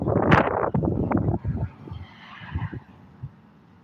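Gusty outdoor wind buffets the microphone in loud, rumbling bursts that are strongest at first and then ease into weaker, irregular puffs.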